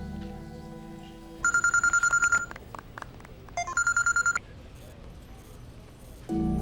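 A telephone ringback tone sounds during a call in a Telugu romantic drama film, as two bursts of rapid electronic trilling separated by a short pause under a quiet background, followed by a voice.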